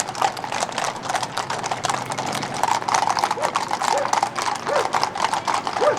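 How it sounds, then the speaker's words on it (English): Horse hooves clip-clop in a horse parade on a street in Buenos Aires, Argentina, during a national holiday. The steps are steady, fairly close and run the whole time, mixed with crowd murmur and voices. "then there's this horse parade"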